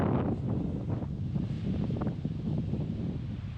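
Strong wind buffets the microphone on a hill near Rushikonda beach. A loud, continuous low rumble with gusty fluctuations lasts throughout, and no other sounds stand out.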